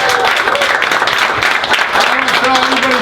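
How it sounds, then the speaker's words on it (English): A comedy club crowd applauds loudly and steadily for about three seconds, with voices and a few tonal calls mixed into the clapping. "Give yourselves a round of applause."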